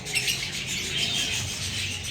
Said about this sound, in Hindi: ये परिंदे हैं